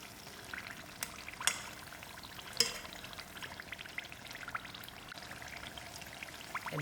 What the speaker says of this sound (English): increase the heat so the oil bubbles out of the patha